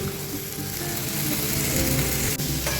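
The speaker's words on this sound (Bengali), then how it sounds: "একটু ভালো করে কষিয়ে নেবো মশলাটাকে" Drumstick flowers frying with a spice mix, coriander stems, peas and tomato in a pan, giving a dense, continuous close sizzle with faint clicks of stirring.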